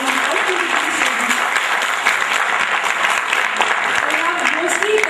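Dense, steady applause from an audience at an HR summit, honoring student presentations; a continuous wash of many hands clapping at even loudness for about five seconds, with a voice faintly beneath.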